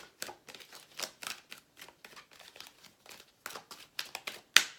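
Tarot cards are pulled and shuffled from a deck, giving soft, rapid papery rustles and flicks in an irregular rhythm, close and quiet, ending with a sharper snap.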